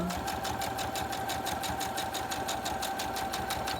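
A sewing machine stitches a row of a heirloom quilt pieced on a grid interfacing, running in a fast, even, continuous chatter of needle strokes nearby, with no talking.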